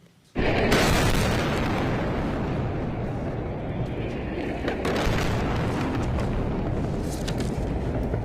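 A sudden, massive explosion from a strike on the Islamic University of Gaza booms, then a loud, rolling roar and rumble that carries on for several seconds without fading much.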